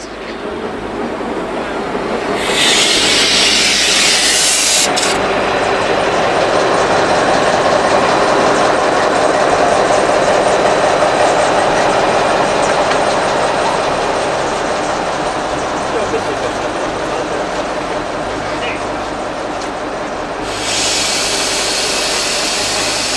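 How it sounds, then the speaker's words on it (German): A train shunts at Winterberg station in snowy Sauerland, a loud, continuous, close rumble of rolling rail wagons and engine noise that holds steady for the full stretch. "Auch im Bahnhof Winterberg wird kräftig rangiert und gearbeitet."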